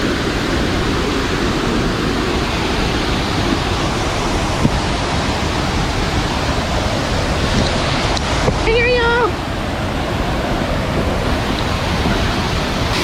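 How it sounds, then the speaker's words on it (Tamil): Huluganga waterfall roaring as a dense, constant broadband rush, close and loud throughout with wind buffeting, a short chirping tone briefly cutting through midway. "நான் வந்து வாட்டர் ஃபால் கிட்டே வந்துட்டோம்"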